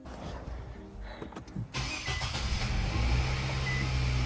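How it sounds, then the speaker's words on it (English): A 2017-2024 Nissan Rogue Sport engine cranks briefly, catches and settles into a steady idle after an AC compressor replacement, heard close with no talking. "Start the car."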